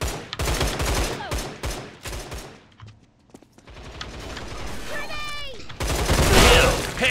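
Bursts of rapid gunfire in the shooter game Line of Sight, loud and close, with a brief lull in the middle. Someone talks over parts of the shooting.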